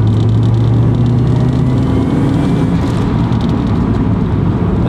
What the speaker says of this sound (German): Also nochmal, 2000 Umdrehungen, vierte Gang, Vollgas.